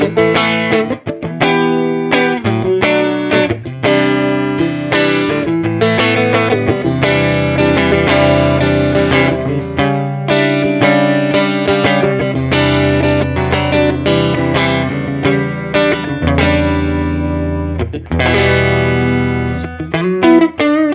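Electric guitar plays a clean tone through a Woodrow amp plugin, a loud, steady run of plucked notes and chords with light effects, continuing throughout without talk.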